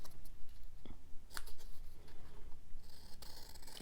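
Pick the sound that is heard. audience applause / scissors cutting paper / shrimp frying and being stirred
scissors cutting paper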